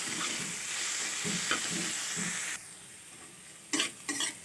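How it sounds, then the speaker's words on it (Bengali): Bottle gourd peel is stirred with turmeric and salt in hot oil, a close, even sizzle with soft scraping strokes, then quieter frying punctuated by two quick clatters of a spatula on the pan. "সামান্য একটু হলুদ দিয়ে এবং পরিমাণ মতো লবণ দিয়ে খুব ভালো করে নাড়াচাড়া করতে হবে"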